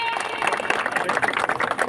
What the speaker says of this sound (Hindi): तो एक बार जोरदार तालियां हो जाए दीपावली के लिए।